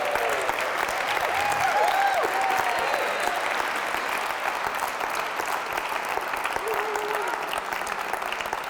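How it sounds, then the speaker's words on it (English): Audience applause welcoming a drummer onstage at a talk on organisational flourishing and jazz, a steady wash of clapping from a crowd held at even volume for the whole stretch, with faint voices mixed in. "we're going to give you each a round of applause"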